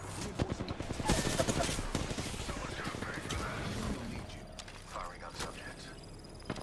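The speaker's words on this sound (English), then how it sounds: "Oh, they're shooting." Rapid automatic gunfire rattles in the Apex Legends video game, dense bursts of shots up close at first, then thinner, scattered shots further off, with a player's voice talking over parts of it.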